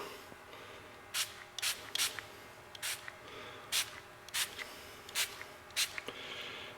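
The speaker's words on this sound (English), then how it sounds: "We're going to give it one more good spray because we're going to head to work." Mil-Comm or Frog Lube gun lubricant sprayed from a can onto a test piece in short, sharp hissing bursts, about nine of them at uneven intervals, close and fairly loud over a quiet background.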